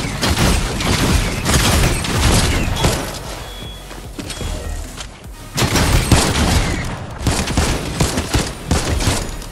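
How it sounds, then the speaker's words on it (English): Rapid bursts of infantry rifle fire in Fortnite, loud and close, crackling in dense volleys with a brief lull midway before the shooting resumes. "I actually do love this infantry rifle"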